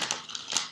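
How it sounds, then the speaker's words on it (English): Golden Universal Tarot cards being shuffled, quick papery riffles and soft slaps of card stock in a brief close burst, with no voices. "while I shuffle my clarifier deck, the Golden Universal Tarot"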